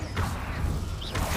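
Confringo fire spell cast in the Hogwarts Legacy video game, a short burst of whooshing, crackling magic with a sharp impact, loud and close, with no talking.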